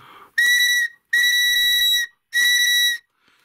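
A homemade bird water whistle built from a stick and tube gives three shrill warbling tones, each held for about half a second to a second with short gaps between, loud and close.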